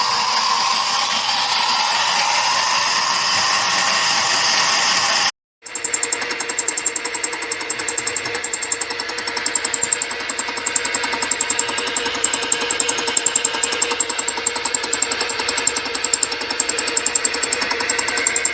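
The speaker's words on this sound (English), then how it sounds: "This is my power hacksaw I built some 20 years ago, cutting through 30 by 30 millimeter steel stock." A homemade power hacksaw, built about 20 years ago, cuts through 30 by 30 mm square steel stock, its motor droning steadily with a rapid rhythmic chatter of the reciprocating blade, loud and close after a brief cut at the start.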